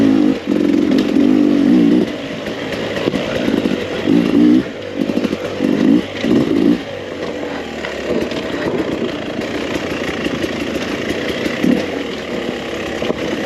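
A 2021 Beta 300 RR oil-injected two-stroke dirt bike with stock jetting and standard suspension revs loudly while riding, its engine rising and falling in bursts, with steady running noise throughout and no talk.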